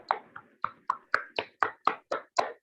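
Sharp, evenly spaced hand claps for the Toastmaster at a club meeting, about ten close claps in a steady rhythm with no talk over them.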